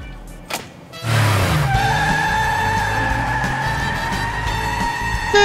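Cartoon sports car skidding in a parody, a loud sustained tire squeal that holds steady for several seconds after a short rev.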